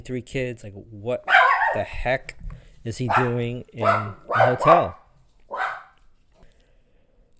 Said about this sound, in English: that is my dog guarding the door